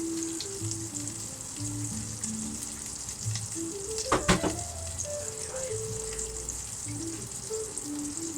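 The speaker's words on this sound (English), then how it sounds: "And now we're going to add a little bit more water." A pan of fish curry keeps up a steady, close sizzle and fry, with a brief louder burst of crackle midway as water goes in, then settles back to an even hiss.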